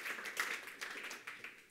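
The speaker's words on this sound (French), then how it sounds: "Ça mérite un applaudissement quand même, non?" An audience at a round table on dual careers in sports in Luxembourg claps briefly and faintly, a few scattered hands heard from a distance.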